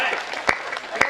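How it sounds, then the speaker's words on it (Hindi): Audience applause at a Hindi comic poetry gathering, a brief close burst of clapping with a couple of sharp louder claps standing out over the general patter. "समझ गए हो तो तालियां बजाओ"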